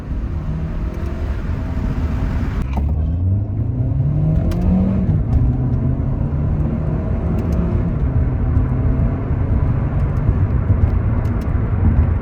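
A car with a dual clutch transmission, sport mode and paddle shifters, its engine droning steadily with a rising rev sweep and shifts, heard close with a whirring, vacuum-like tone and no talk.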